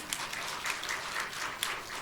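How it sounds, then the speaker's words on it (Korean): A church congregation at an Onnuri Church service applauds, a soft, distant, even patter of many hands clapping across the whole moment, with no speech over it. "여러분, 우리 박수 한번 쳐야 되는 거 아닙니까?"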